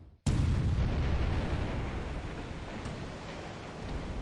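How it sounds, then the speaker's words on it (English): A sudden loud explosion in a naval battle in the War in the Pacific video game bursts in after a brief silence, then rolls on as a heavy, sustained rumbling roar that slowly eases off. "Oh, there's an explosion."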